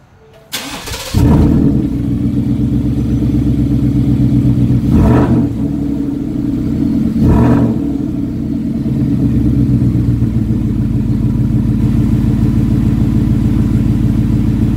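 A Ford F150 pickup truck with a Coyote engine cranks and fires up loudly, then settles into a deep idle with two sharp revs in the middle, close by.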